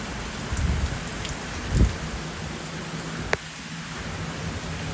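Steady rain falling outdoors in Ottawa, Canada, a soft continuous hiss of drops hitting surfaces, with a few closer splashes and a brief sharp tap standing out.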